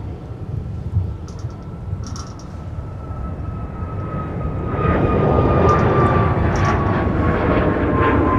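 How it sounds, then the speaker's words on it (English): A Sun Country airliner taxis at MSP airport, its engine roar a steady, loud rumble with a faint whine that swells louder partway through, heard alone with no talk. "We have Sun Country taxiing on Mike."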